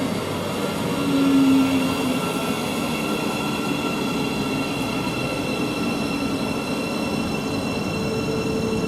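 A Class 700 train on the Bedford to Brighton service runs through Luton Airport Parkway station, a loud continuous rumble with steady wheel and motor whine and a brief squeal near the start.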